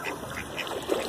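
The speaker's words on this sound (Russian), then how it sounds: "Гусят." Goslings calling in a short, soft burst: a couple of faint peeping chirps close by against quiet outdoor background, no talk.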